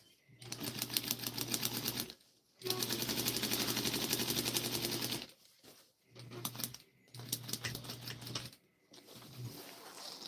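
Sewing machine stitching straight down a seam while darts are sewn for a Vogue 1737 garment, a rapid mechanical clatter in several bursts separated by short pauses, close and steady.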